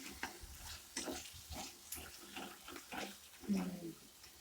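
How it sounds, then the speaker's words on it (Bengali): Spice masala frying in a pan for an egg curry with vegetables is stirred in a quick series of scraping, clattering strokes, close and moderately loud, with a wet sizzle beneath. "এই মশলাটা কষাচ্ছি।"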